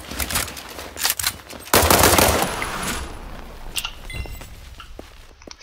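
Gunfire in the shooter game World War 3 comes as a few loud close shots and then a dense rattling burst, fading into scattered clinks and lighter shots.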